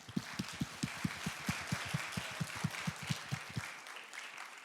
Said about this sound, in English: Everyone clap your hands 10 times.